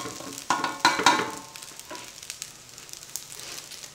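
Fried rice made from four cups of rice being pressed flat with a spoon in a hot pan, with a few scraping, clattering spoon strokes early on over a steady low sizzle.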